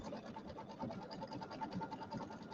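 A sewing machine stitches quilting on a small penguin mug rug, with a steady, quiet, fast running whir and no talking.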